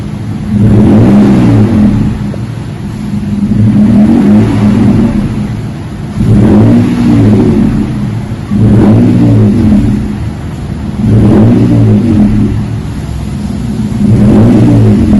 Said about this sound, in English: Put a Flowmaster Super 44 muffler on it.